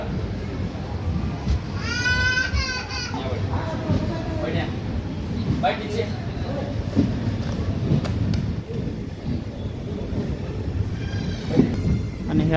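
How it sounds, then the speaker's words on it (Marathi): Nizamabad Express pulling away from Latur station, a continuous rumble of rail wagons with rattling and clatter, while people talk over it and brief bleating cries rise near the start and end. "आपली ट्रेन जी आहे ती लातूरवरून सध्या निघालेली आहे"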